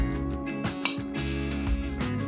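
Chicken kondattom being moved into a serving dish, with bright metallic clinks and scrapes of a utensil against the pan and dish, several distinct taps over a low background hum.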